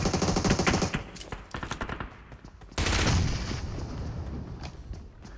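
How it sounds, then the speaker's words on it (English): Dense, loud automatic gunfire from enemies pre-firing in PUBG Mobile, continuous rattling bursts with a heavier burst partway through, filling the whole stretch without speech. "When the enemy is pre-firing you."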